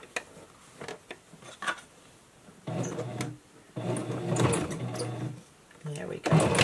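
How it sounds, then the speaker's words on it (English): A sewing machine stitches bias tape over the nose bridge casing of a fabric face mask, running in several bursts of whirring separated by pauses, with someone talking over parts of it. "complete the process of the casing and sewing your bias tape over the nose bridge"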